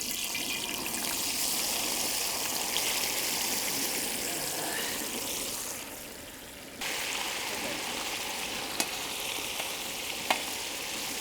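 Paneer cubes fry in hot oil in a home kitchen pan, giving a steady, close sizzle that briefly softens midway, then resumes with a couple of sharp clicks from the utensils.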